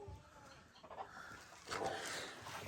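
A large village rooster clucks in a few short bursts at close range, with farmyard background noise around it.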